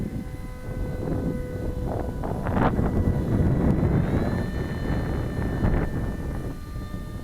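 Foam RC model F22 jet with small electric motors flies overhead, a whining motor buzz with shifting pitch tones rising and fading over several seconds amid wind noise on the microphone.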